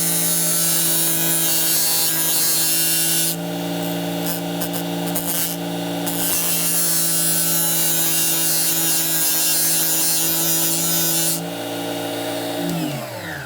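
A multi-tool blade is ground against a Tigers Teeth blade sharpener, giving a continuous loud, close rasping whine with a steady hum underneath, changing in tone partway through and easing near the end.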